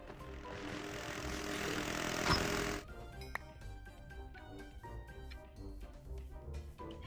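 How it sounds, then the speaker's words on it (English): Drones buzz by in the Minecraft Invasion modpack, a steady droning engine hum that swells for a few seconds, then cuts off abruptly, leaving quieter game sounds. "Freaking drones, man. Coming out of nowhere."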